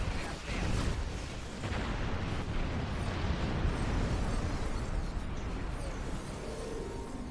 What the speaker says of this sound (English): Everything is going kaboom.